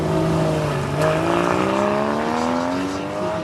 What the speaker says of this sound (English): coming to the finish line in the Julia